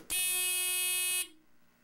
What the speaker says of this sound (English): that's how the buzzer sounds